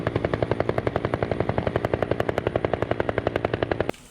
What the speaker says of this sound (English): It's helicopter, guys.